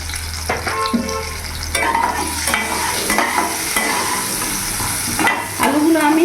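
Potato pieces seasoned with salt and turmeric fry in hot oil in a pan, giving a steady, close sizzle with scraping stir strokes throughout and no talking.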